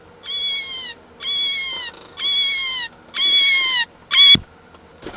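A small cat-shaped novelty pen toy plays five electronic meows in an even rhythm, each one bright and steady, with the last one shorter and sharper. The sound is close and fairly loud, with no talking.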